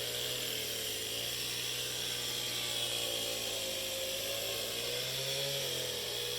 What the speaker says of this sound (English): You can hear my husband cutting wood in the background.